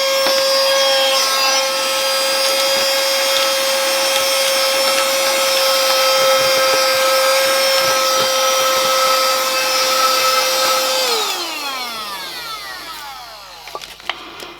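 A small handheld in-car vacuum cleaner runs with a loud, steady high-pitched motor whine for about eleven seconds, then spins down to silence, with no talking.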